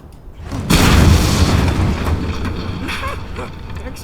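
A shotgun blast in the Mad Max video game: a loud, booming single report with a strong low-end burst and a long rumbling tail, with no talk over it.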